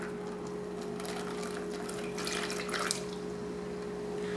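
Water trickles and splashes into a pan for making syrup, a soft, steady close pour over a constant low hum, swelling slightly toward the middle.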